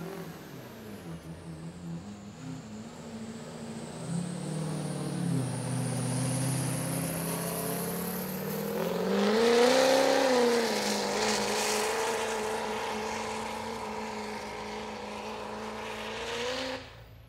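A pickup truck's engine roars at a county fair truck pull, holding a loud sustained drone that climbs in pitch as it labors, then eases off toward the end, with no talk over it.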